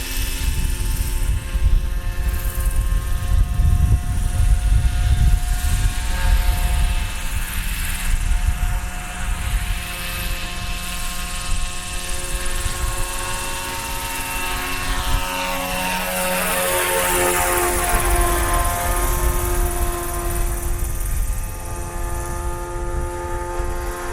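A Roban MD-500E 800-size RC helicopter in a low hover taxi, its rotor and turbine-like whine droning loud and continuous throughout, with a slight pitch sweep as it moves, no voices.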